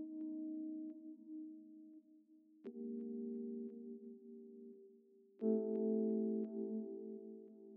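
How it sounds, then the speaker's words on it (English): A synth keyboard patch plays a three-chord progression, each chord held steadily for a few seconds before the next, soft and uncluttered with no voices. "So I got it on this keyboard sound, and the chords sound something like this."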